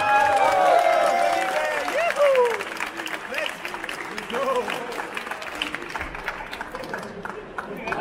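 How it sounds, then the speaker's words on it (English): Audience applause and cheering at an aquascaping contest held at an aquarium trade fair in Holland, a dense crowd clapping loudly at first and then settling, with a voice speaking over it. "please give one more hand of applause"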